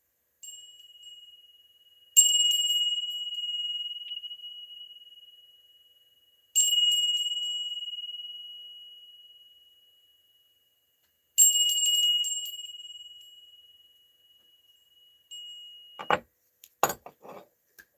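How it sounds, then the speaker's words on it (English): A bell rung three times, each clear strike ringing out alone and slowly fading in a quiet room, followed by a few light clinks. "We are going to ring the bell 3 times."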